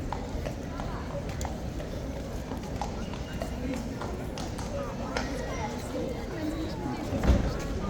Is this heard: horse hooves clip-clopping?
yes